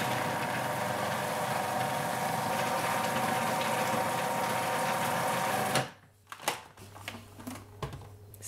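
Blender blitzing melted chocolate into a vegan Nutella spread runs as a loud, steady motor whir for several seconds, then cuts off, followed by a few clunks and knocks.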